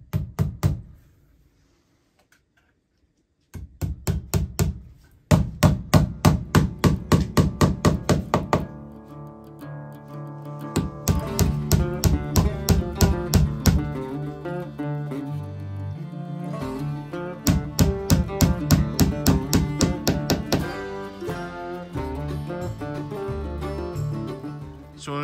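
Hammering small round-headed galvanized wood siding nails into a copper sign, with bursts of rapid, sharp metallic taps close by, separated by short pauses and brief silences.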